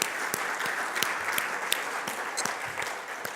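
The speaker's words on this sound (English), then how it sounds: "I really want to give our panel a round of applause" A conference audience applauds a discussion panel at an automotive logistics industry event, with steady, dense clapping from a large room that carries evenly through the whole stretch without any voices over it.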